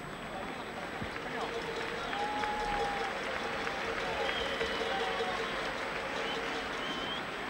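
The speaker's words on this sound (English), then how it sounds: "And applause, let it be noted, from the Spanish crowd" The Spanish crowd at a 1980 Spain versus England football match applauds, a faint, distant, continuous roar of clapping in the stadium under a commentator's voice.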